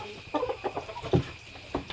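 Chickens cluck in short, scattered bursts, fairly close, with a steady electrical hum underneath.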